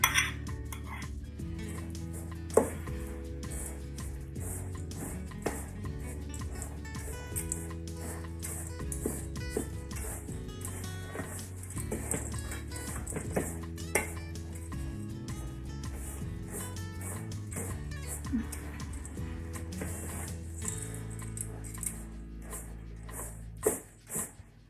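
Chia seeds being stirred into a thick, hot gluten-free vegan bread mixture, with repeated clinks and scrapes of a utensil against a bowl in an irregular rhythm, close and clear, with no talk.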